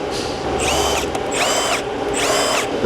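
A power tool zips main cap bolts out of a Dart 2JZ engine block in three loud, rising whirring bursts that come close together.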